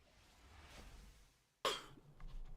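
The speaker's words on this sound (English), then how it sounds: "I'm still coughing every now and again." A man with a lingering cold gives a single sharp cough at close range after a quiet stretch, followed by faint background noise.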